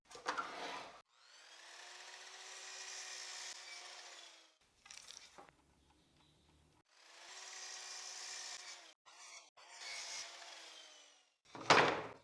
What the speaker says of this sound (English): Here at the miter saw, I will remove the damaged end, and from the rest, I will cut 3 pieces, each 49 centimeters long.